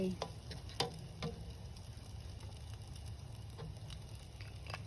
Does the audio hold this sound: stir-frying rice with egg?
yes